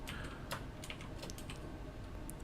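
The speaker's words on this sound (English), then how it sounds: "but for the sake of practice, let's be typing" Continuous typing on a computer keyboard during a Python coding session, with steady rapid key clicks and occasional sharper keystrokes close to the microphone, no voices.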